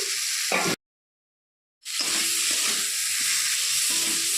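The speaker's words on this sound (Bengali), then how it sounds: "এর মধ্যে আমি এখন ভেজে রাখা আলু পটল ঢেলে দিচ্ছি" Fried potatoes and pointed gourd tipped into frying spices in a pan, a loud steady sizzle that cuts out briefly and then resumes, with light stirring scrapes.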